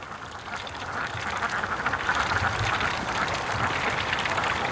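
Ducks quack repeatedly over a steady noisy background, the calls dense and continuous, moderately loud and a little distant.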